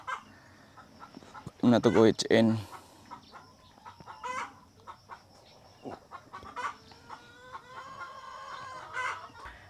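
Rhode Island Red chickens on a small farm in Cebu cluck and squawk at watering time, with a loud burst of fowl calls early and steady nearby clucking throughout, while someone talks.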